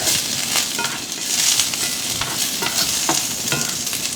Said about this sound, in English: with these onions getting like partly sauteed here